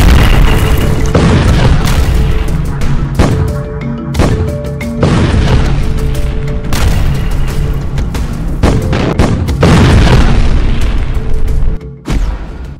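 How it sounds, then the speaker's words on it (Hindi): Heavy explosions from Israeli bombing of Gaza, deep loud booms and blasts following one another almost continuously with repeated heavy impacts, no talk. "27 अक्टूबर की रात हुई भयंकर बमबारी में गाजा में 150 से ज्यादा अंडरग्राउंड सुरंगें पूरी तरह से तबाह हो गई हैं"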